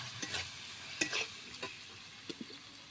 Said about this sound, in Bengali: ওর মধ্যে দিয়ে দিচ্ছি এই যে কষিয়ে রাখা আলু আর কুঁদরি। মশলার সঙ্গে ভালোভাবে মিশিয়ে নেব।